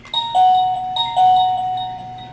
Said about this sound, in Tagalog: Ito ang doorbell namin guys. Ito ang doorbell house guys ha.